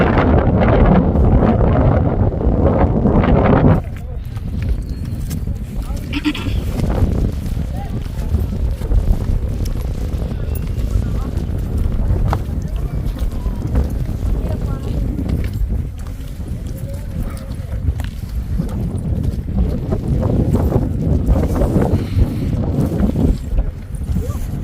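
Strong wind roars across the hilltop at Ponmudi in Trivandrum, Kerala, buffeting the microphone with a loud, continuous rumble for the whole stretch. Gusts swell and ease, and a voice is faintly audible underneath.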